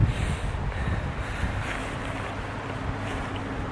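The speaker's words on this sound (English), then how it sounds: "Set up the windscreen because it's damn windy." Steady, roaring wind at a campground buffets the microphone with broadband rumble, loud and continuous throughout, with no voices.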